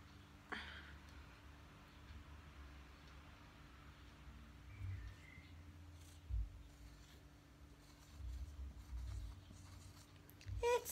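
A word being written on paper, quiet scratching strokes of pen or pencil in short bursts with pauses, faint against a low background hum.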